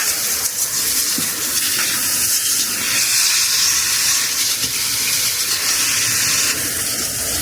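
Steady broadband rush of water running from a tap or hose while a garden is watered, continuous and fairly loud throughout with no talking.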